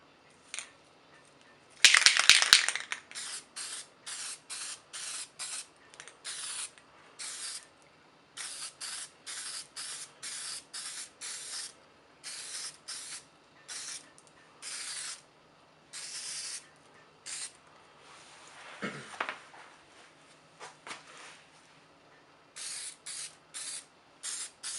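Aerosol spray paint hisses onto a styrene HO scale model road in a long series of short bursts, each about a second with brief gaps, starting with one louder, harsher blast near the beginning, close to the mic with no talking.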